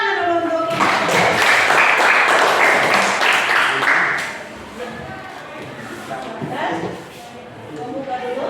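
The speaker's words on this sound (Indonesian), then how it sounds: "Tepuk tangan dulu untuk" A classroom audience applauds as a student group is invited to present, a dense, loud wash of clapping for about four seconds that fades, followed by softer room noise and scattered voices.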